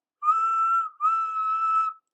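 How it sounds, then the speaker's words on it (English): A steam engine whistle sounds two sustained, clear blasts separated by a brief pause, standing alone against silence. "The signal dropped, and from far away an engine whistled."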